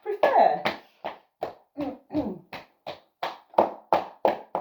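Hands tap and knock rhythmically on the body during a self-massage routine along the legs and belly, about a dozen close, even thumps in a steady beat with no talking.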